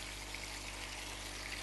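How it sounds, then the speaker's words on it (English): Water poured into a hot pan of pork-filled pot stickers, giving a steady, close hiss and fizzing bubble that holds evenly throughout with no pauses and no voices. "be careful, it will start bubbling"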